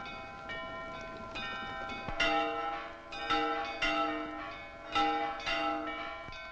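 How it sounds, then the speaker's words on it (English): Church bells ring out in repeated, resonant strikes, each chime ringing on and overlapping the next at a moderate distance. "Why are the bells ringing?"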